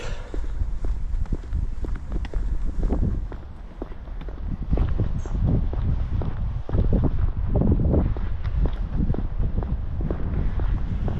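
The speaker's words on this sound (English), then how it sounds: "It is a bit windy." Strong wind buffets the microphone in continuous rumbling gusts at a caravan park near Skegness, loud and close, with no voices.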